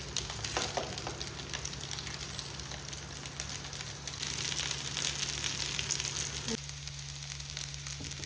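Grated coconut and black pepper fry in hot fat with a continuous dense sizzle and crackle, joined by scraping and stirring noises, before the sound thins out and drops near the end.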